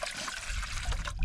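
Filtered water poured into a cooking pot on the Appalachian Trail, a brief close trickling and splashing pour with no voices.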